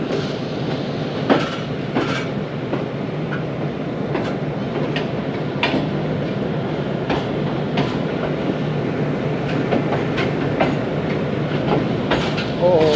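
A passenger train rolling into Khanewal station in Pakistan, a steady loud rumble of wheels and carriages with rhythmic clicks and faint squeals, brief voices now and then.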